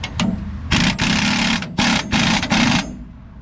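An air compressor refills in a garage while a truck is being lowered, running in loud, close bursts of buzzing motor noise that start and stop several times over a few seconds.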